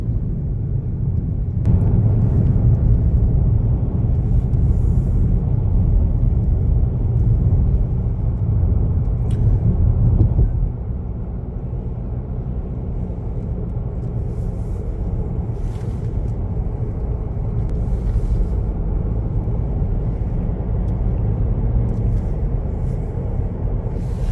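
A car driving on a road, heard from inside the cabin as a steady, loud low rumble of road and engine noise that shifts slightly midway, with no talking.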